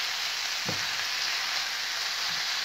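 Minced meat fries in a pan for spaghetti bolognese, giving a steady, even hiss of sizzling throughout with a soft thump early on and no speech.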